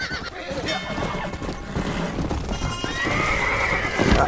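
A horse in the Red Dead Redemption video game gives a long, loud whinny near the end, with hoof clatter and game noise throughout while people talk.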